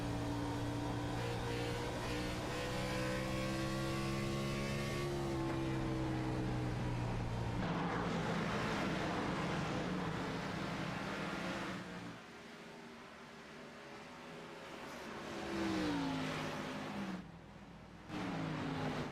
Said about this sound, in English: Just hear that throttle as he makes his way around the track.